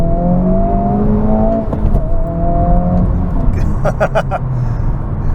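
A 2023 Honda Civic Type R engine revving hard and climbing in second gear during a night drive, a steady rising drone inside the cabin with a person talking over it.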